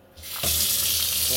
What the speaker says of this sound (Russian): Вода идет.